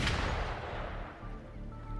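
A burst of gunfire in the video game Wuthering Waves, a loud sharp report at the start trailing into a rumbling, booming tail.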